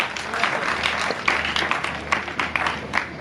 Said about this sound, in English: I was expecting a clap for that.